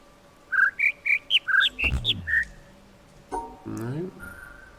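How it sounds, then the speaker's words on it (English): Bird calls in the video game The Witness: a quick run of about eight bright, clear chirps, then a brief low bleep and a short warbling sound, heard close over quiet background. "Those bird noises are really starting to annoy me."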